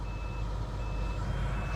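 An ambulance backing up on a Philadelphia street gives a steady string of faint, evenly spaced reversing beeps under a loud, rumbling street and engine noise.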